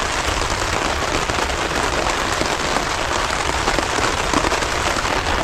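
Rain falls steadily in the wilderness, a dense, continuous hiss of drops striking surfaces at an even level with no voices.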